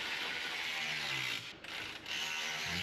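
A ratchet on 13mm bolts of a 2.0 TFSI Audi A5 engine gives steady, close, rapid clicking that pauses briefly twice before starting again.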